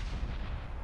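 A slow-firing VMK cannon in a competitive online shooter match booms in one heavy, dense blast that fills the short moment, loud and close, with no talking.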